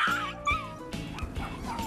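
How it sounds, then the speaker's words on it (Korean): A small dog, anxious and sensitive to being touched, lets out high yips and whimpering cries in quick succession, close and fairly loud, with no talk over them. "두 번째 유형은 사람이 만지면 이유 없이 괴성을 지르는"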